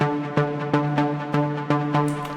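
A Serum synth pluck with automated filter cutoff plays a steady, evenly spaced pattern of bright, tonal notes, each with a sharp attack that decays quickly. The pattern is heard alone at moderate level.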